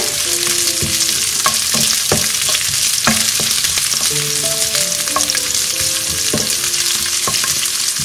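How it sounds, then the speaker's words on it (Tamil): Onions sautéing in a pan with ginger and garlic for prawn Manchurian, a steady close sizzle with repeated clinks and scrapes of a spatula stirring throughout, no voices. "இஞ்சி பூண்டு வதங்கினதும் நான் கட் பண்ணி வச்சிருக்கிற வெங்காயத்தை ஆட் பண்ணிக்கிறேன்"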